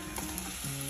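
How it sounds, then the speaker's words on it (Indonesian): Butter heating in a pan with milk and cheese for a taco cheese sauce, a steady close sizzle and bubbling frying sound. "pertama-tama panaskan 1 sendok mentega, masukkan susu cair, keju slice, dan keju bubuknya"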